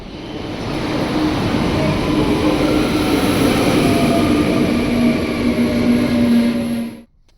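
Train idling or rolling at a station platform in The Hague, Netherlands: a loud, steady mechanical rumble with a constant high whine and a low hum, holding evenly for several seconds before cutting off abruptly.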